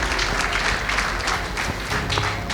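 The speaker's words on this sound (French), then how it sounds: "Merci d'applaudir très fort pour Monsieur Apollinaire Compaoré." An audience applauds steadily at a gala evening, a dense wash of many hands clapping close by, sustained throughout with no pauses.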